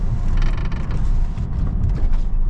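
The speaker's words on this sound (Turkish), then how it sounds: "Benim cam ses çıkarıyor ya." Steady mechanical creaking and rattling, close and continuous, of a partly opened window in a 2016 Renault Fluence 1.5 dCi driving at night, with low rumble underneath.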